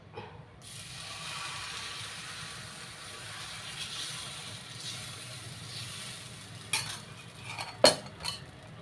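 Utensils and a hot pan clink in a home kitchen while dosa is being made, over a steady low hiss, with a few sharp metallic knocks near the end.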